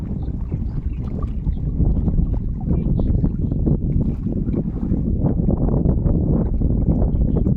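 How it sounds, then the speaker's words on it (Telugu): Strong wind buffets a small fishing boat on open water, a loud, continuous roaring rumble that never lets up, with people talking underneath. "అబ్బా గాలి ఎక్కువైపోయింది."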